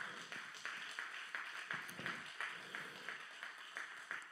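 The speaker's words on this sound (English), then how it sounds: "Can you clap your hands to the Lord right now?" A church congregation claps hands together in praise, a steady rhythmic beat of many hands repeating about every third of a second, moderately loud and filling the room without voices over it.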